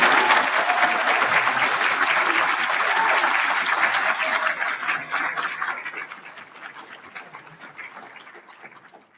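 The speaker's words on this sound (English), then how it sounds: "Give them a big cheer and a thank you." Graduation ceremony audience cheering and applauding in a large hall, a dense, loud wash of clapping that holds steady for several seconds and then gradually thins and fades.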